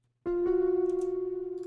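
Two sustained tones sound together a half step apart, producing a clear, slow beating wobble as they ring and fade, close and alone.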